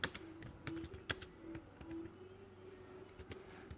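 Quiet computer keyboard typing as code is entered, irregular soft key clicks spread over a few seconds with a faint low hum underneath.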